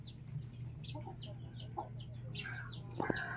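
A caged chicken gives soft repeated clucks and short chirpy calls over a steady low hum, fairly faint, with a slightly louder rattle near the end.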